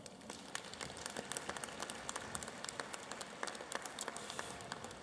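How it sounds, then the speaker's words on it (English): Scattered clapping from a graduation audience for school staff at a high school ceremony, faint and distant, with individual claps standing out over a steady patter for several seconds. "Let's give them a round of applause."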